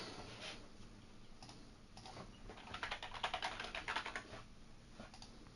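Computer keys clatter in quick, uneven bursts, faint and close, with a brief flurry of rapid strokes in the middle.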